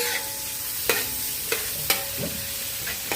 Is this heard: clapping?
no